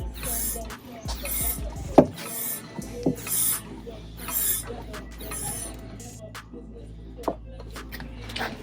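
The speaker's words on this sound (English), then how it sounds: "So we'll pump this up to about 10." A hand pump on a pressure brake bleeder for a BMW F30 340i being worked up to pressure, giving repeated soft hissing, squeaky strokes close by, separated by brief clicks and short pauses.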